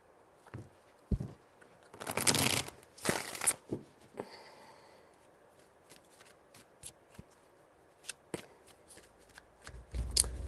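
Tarot cards are shuffled in a few quick riffling bursts, with soft handling sounds and light taps between them, close by and quiet.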